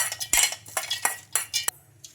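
Roasted peanuts and chillies tumble into a mixer jar, a quick series of clattering hard clinks and rattles against the jar with brief pauses between drops, close and fairly loud.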